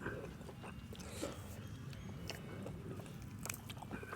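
Crunchy food being chewed close up, a soft, continuous run of crisp bites and crunches with a few sharper cracks, fairly faint overall and without speech.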